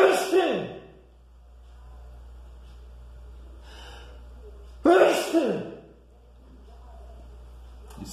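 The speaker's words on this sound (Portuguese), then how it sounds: "Espirrei aqui, fera." A person sneezes twice, a few seconds apart; each is a loud, close, explosive burst of breath that trails off, over a low steady hum.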